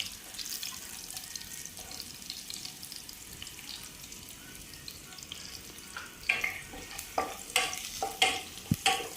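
Garlic sautés in a pan in a home kitchen, a low sizzling hiss with scraping stirring strokes that grow louder and more rhythmic near the end, close to the microphone with no talk.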